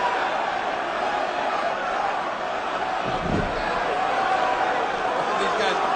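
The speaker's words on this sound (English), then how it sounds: "And a sellout chant from a sellout crowd." A packed arena crowd at WrestleMania 33, during the Goldberg versus Brock Lesnar match, chants with a loud, steady, unbroken roar of many voices.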